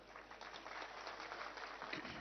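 A crowd claps at a public rally in a village gathering, producing a brief, faint, dense patter of applause that holds steady throughout.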